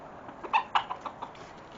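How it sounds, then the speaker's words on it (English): A wild chicken clucks in a few short, sharp bursts close by, spaced unevenly over a quiet outdoor background. "Might be being joined here in a moment by a wild chicken."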